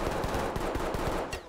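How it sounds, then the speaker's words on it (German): Rapid bursts of gunfire in the video game Ready or Not, a quick string of sharp shots in close succession, hitting a greenhouse. "die Schüsse schlagen im Gewächshaus ein"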